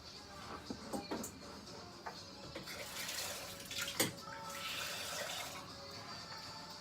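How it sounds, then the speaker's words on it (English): Water is poured into a sourdough starter of potato mash in a bowl, making soft splashes and trickling at close range, with a few louder splats and short bursts of running water. "And I just put a little bit of water in there."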